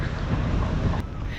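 Strong wind buffets the microphone at a seaside spot near Gibraltar in winter, a steady loud roaring rumble throughout with no speech.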